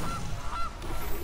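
Repeated goose honks from the MTG Arena digital card game, a few nasal calls over a steady game background, fairly loud and close with no talk.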